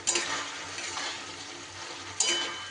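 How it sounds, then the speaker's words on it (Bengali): Ground coriander and cumin fry in oil for bhangar fish, a steady close sizzle with periodic swells as a spatula stirs and scrapes the pan, no voices. "এবার সুন্দর করে নাড়াচাড়া করে বেশ কিছুটা সময় ধরে আমি মশলাকে কষিয়ে নেব"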